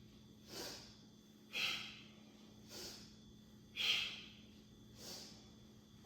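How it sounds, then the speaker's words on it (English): Vigorous yoga breathing, five forceful breaths through the nose alternating between inhale and exhale at an even pace, close and fairly quiet against a low background hum. "So we inhale up, vigorous breath,"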